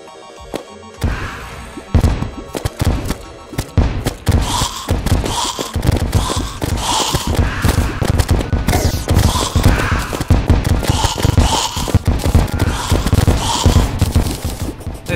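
The Stynger launcher in Terraria fires and explodes with shrapnel, a dense, loud, continuous barrage of rapid blasts and bursts over game music that keeps going throughout.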